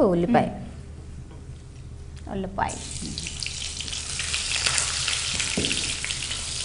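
Whole spices hit hot oil in a pan for bell pepper bagara rice, with a few clanks at the start before a loud, steady hiss of frying takes over and continues to the end.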